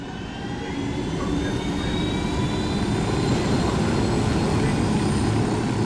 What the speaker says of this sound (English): Get the helicopter back on.